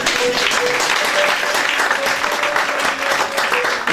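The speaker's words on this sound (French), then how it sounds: "Acclamons ici." A church congregation applauds at a French-language sermon, steady loud clapping from many hands filling the room without pause.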